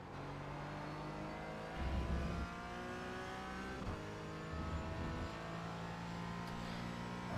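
A race car engine drones and shifts pitch around the Interlagos circuit in a racing video game, with brief louder surges as the car rides over a bump, heard alone without talk.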